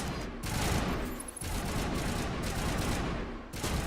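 Sustained rapid gunfire crackles in dense bursts during a Mass Effect firefight, a constant volley of shots with brief pauses, faint and distant in the mix.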